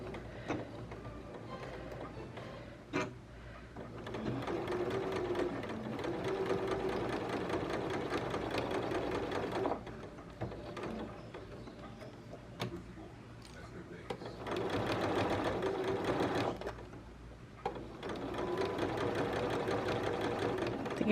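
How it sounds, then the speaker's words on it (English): A sewing machine stitches darts in the front wrap bodice of a Burda 5803 garment, running in several long steady stretches separated by brief pauses and handling noises, close and fairly quiet. "I am gonna sew all of my darts"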